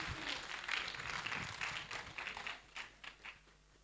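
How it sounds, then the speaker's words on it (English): Audience applause for dancers at an Africa Day event, a dense burst of clapping that thins out into scattered claps toward the end, moderately loud and with no talking. "What about another round of applause for our great dancers?"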